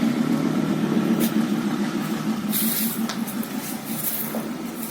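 A tuned off-road Lada Niva 2121 idles steadily at close range, its engine holding a low, even rumble from start to finish with no revving and no voices.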